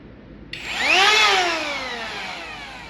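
A power tool with a spinning blade starts up after a brief hush, winding up to a loud, high-pitched whine that peaks and then slowly falls in pitch as it keeps running close by.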